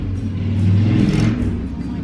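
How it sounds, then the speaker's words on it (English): A motorbike engine rumbles past on a street on a busy Sunday, a loud close drone that swells to a peak mid-pass and then eases off. "There's been so many motorbikes going up and down here recently."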